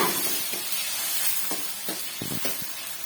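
Tomatoes frying with onions in a pan for tomato sambar, a steady close sizzle with a few spatula stirs and scrapes, no voices.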